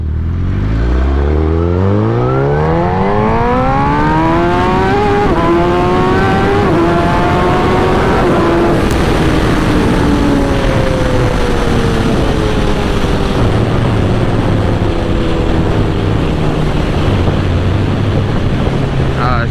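A 2008 Suzuki GSX-R 1000 with velocity stacks and a slipping clutch revs hard during a burnout. The engine climbs steeply in pitch, then holds a loud, rough, sustained high roar close by throughout.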